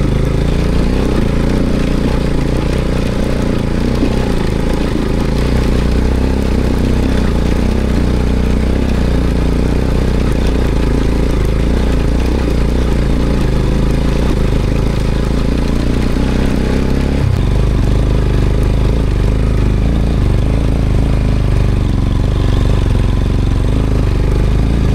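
A motorcycle labours up a rocky mountain trail toward Ama Yangri in Helambu, Nepal. Its loud, steady engine drone fills the whole stretch up close, and the tone shifts lower partway through. No one speaks.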